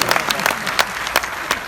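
An audience at a Hindi comedic poetry show claps briskly, scattered individual hand claps standing out over a steady patter of applause.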